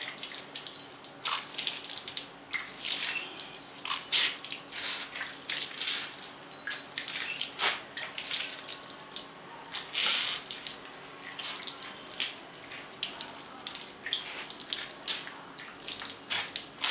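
Water poured into a semi-dry mudbrick mix at a workshop, a continuous splashing, trickling flow with uneven surges, close and moderately loud throughout.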